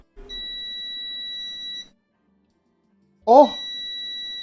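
A 3D printer that has just finished printing a dragon sounds a long, steady electronic beep, then falls silent, then starts a second beep as someone exclaims.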